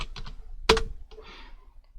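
Keys pressed on a computer keyboard to enter a Ctrl+I shortcut while building an income statement in a spreadsheet, giving a few light taps and one sharp, loud keystroke close to the mic, with no talk.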